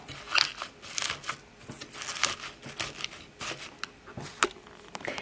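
A LINKChef cold press juicer crushing cucumber and kale, irregular crunching and crackling bursts close up with short pauses between them, no speech.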